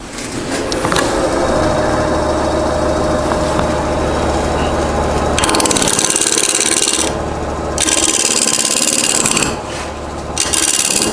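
A tungsten carbide ring on a power carving tool grinds into wood, a loud continuous rasping whir with surging bursts of higher abrasive hiss as it bites during rough shaping of a carved head.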